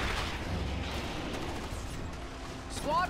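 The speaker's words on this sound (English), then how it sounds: "On a bombing run." Airstrike explosions from a bombing run in the strategy game Starship Troopers: Terran Command, a dense, continuous rumble of blasts and booms with a brief voice-like sound near the end.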